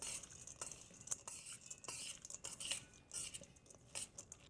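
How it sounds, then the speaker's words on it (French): Melted butter, fleur de sel and freshly ground pepper are mixed together in a bowl, giving soft, quiet stirring with light scraping and clinks of a utensil at an uneven rhythm, heard alone. "On mélange le tout."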